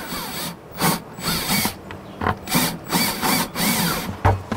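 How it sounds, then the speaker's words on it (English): A power drill whirs in short repeated bursts, grinding and scraping through plastic with brief pauses between pushes, close and fairly loud. "And then I drill it from the inside"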